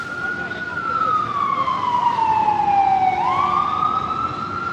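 A wailing emergency vehicle siren on a New York City street sweeps down in pitch and then climbs again, loud and steady against a background of traffic rumble.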